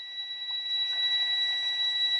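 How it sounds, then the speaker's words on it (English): A truck's low air pressure warning alarm buzzes as a continuous high, steady electronic tone, loud and close, during a pre-trip brake inspection with no talk over it. "I will have an audible and visual alarm indicating low air pressure."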